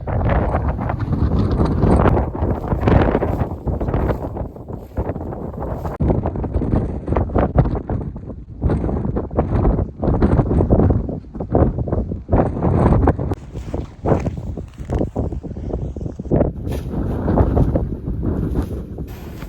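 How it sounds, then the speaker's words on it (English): Strong gusting wind roars around a tent at a remote caribou hunting camp, a loud continuous buffeting rush with surging gusts close to the microphone. "It's blowing like 50 miles an hour outside right now"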